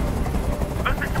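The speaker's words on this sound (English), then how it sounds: "I can't stand that noise anymore. Tell that helicopter to get out of here." A helicopter in the video game Detroit: Become Human gives a loud, continuous rotor rumble with a fluttering drone that fills the whole moment, while a few higher tones flicker over the top.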